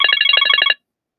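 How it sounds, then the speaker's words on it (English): A phone alarm rings loudly and close, with a rapid trilling electronic tone that pulses for under a second and then cuts off abruptly into silence. "That's my alarm."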